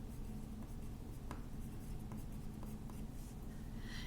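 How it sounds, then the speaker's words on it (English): Red marker strokes scrawling out a word on paper for kids' word art, a close run of short squeaky scratches and taps over a steady low hum, no voice. "let's write the word bright, B-R-I-G-H-T."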